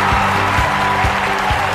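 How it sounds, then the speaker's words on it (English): A stadium crowd applauds a new Olympic champion in the London 2012 video game, a steady loud wash of clapping with a low droning hum and periodic thumps underneath. "they can applaud a new Olympic champion"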